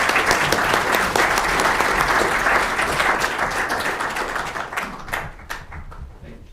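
An audience at a lecture on the crime of aggression applauds to welcome a keynote speaker: thick, even clapping that holds steady, then thins and fades out over the last second or two.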